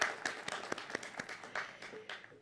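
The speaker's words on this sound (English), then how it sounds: "Let's give him another round of applause." Commencement ceremony crowd giving a round of applause, fairly faint and distant, a scattered patter of clapping hands lasting a couple of seconds.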